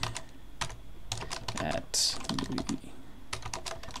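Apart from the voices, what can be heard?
typing on a computer keyboard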